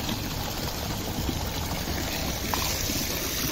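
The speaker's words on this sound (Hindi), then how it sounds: "वहाँ से पानी आ रहा है, कितना गजब लग रहा है।" Water flowing down from the hills in Sonbhadra, a steady broadband rushing and trickling wash that continues evenly without pause, with no speech.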